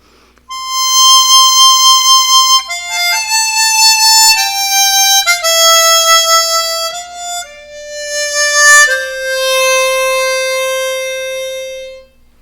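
A chromatic harmonica plays a slow descending melody with lip vibrato, each clear reedy note held and gently pulsing, loud and close, ending on a long sustained tone.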